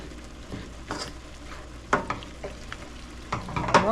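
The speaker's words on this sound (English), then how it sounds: "Mix that all up." Taco seasoning and about a quarter cup of water being stirred into a frying mixture for a taco ramen bake, giving scattered scrapes and clinks of a utensil over a low sizzle, close and moderately loud with no talk.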